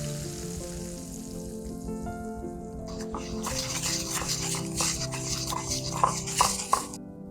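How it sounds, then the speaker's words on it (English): Noodles being mixed into a garlic chili oil sauce made with soy sauce and black vinegar, starting with a faint sizzle, then close, wet stirring and slapping clicks that grow louder toward the end. "Add in the noodles and mix together until the noodles are nice and evenly coated."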